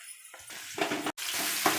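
Onions sautéing in oil in a pan for bitter gourd (pavakkai) fry with garlic and asafoetida, a steady close sizzle broken by stirring scrapes, with a brief cut to silence partway through before the frying resumes loudly.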